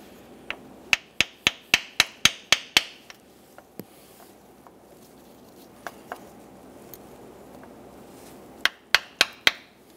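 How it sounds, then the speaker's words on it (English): A small hammer taps a block of wood to seat a seal during timing belt and water pump work on a 2010-2014 Subaru Outback. Two quick runs of sharp, close, evenly spaced taps are separated by a few scattered knocks. "We're gonna use a block of wood and a small hammer and tap this seal into place."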